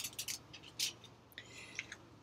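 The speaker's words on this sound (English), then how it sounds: "I just tore it with my hand" A sheet of white paper is torn by hand, giving a few quick, crisp rips close by in a quiet room.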